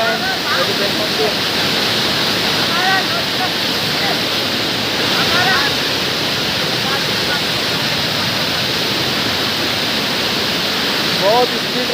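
Water pours fast and hard over the Mohana waterfall in Gajapati, a loud unbroken roar that holds evenly for the whole stretch, with faint bird calls threading through the rush.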